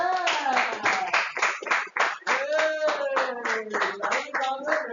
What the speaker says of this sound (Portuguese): Salva de palmas para o André!